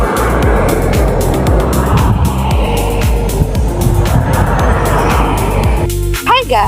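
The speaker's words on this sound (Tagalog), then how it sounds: "Ayun yung sasakyan namin." A family car pulls up on a road trip, its engine and tire noise rumbling loud and steady throughout, ending with a brief squeal as it slows; voices murmur underneath.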